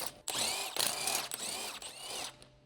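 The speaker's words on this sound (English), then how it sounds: "Using the 17mm deep socket with the impact wrench," Electric impact wrench with a 17mm deep socket hammering on car wheel lug nuts, a BMW 325ci E46, in several close, loud rattling bursts separated by short pauses, no talk.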